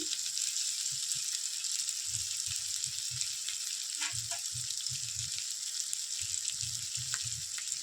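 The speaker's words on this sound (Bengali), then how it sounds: "এই মশলাটা যখন কষা হবে বন্ধুরা তখন খুব আস্তে আস্তে জাল দেবে" Masala spices for Bengali egg curry frying in a pan over low heat, a steady bright sizzle throughout with soft intermittent stirring scrapes and taps underneath, close and continuous with no talking.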